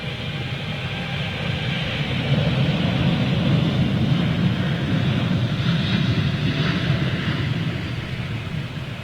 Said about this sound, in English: That's 3 Virgin Dreamliners gone out in the last 10 minutes.